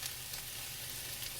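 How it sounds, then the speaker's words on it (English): Garlic frying in a pan, a continuous even sizzling hiss, close and fairly quiet, with no voices. "Garlic hasn't got brown yet. I better brown it a little bit more."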